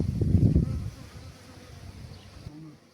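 A dense honeybee colony hums and buzzes around a newly emerged queen at the hive, a close, steady drone that swells loudly at first and then eases to a softer buzz.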